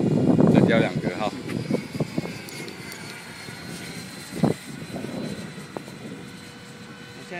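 A radio-controlled model Rafale jet flies on its maiden flight at two-thirds throttle, its engine a steady, moderate whoosh that is loudest at the start and then drops back. People talk over it outdoors.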